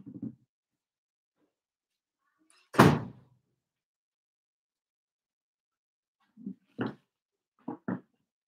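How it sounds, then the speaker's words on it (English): A door is pushed shut with a single loud thunk in a quiet room, preceded and followed by a few softer bumps and knocks as it settles. "I'll just quickly shut the door because there's a bit of noise."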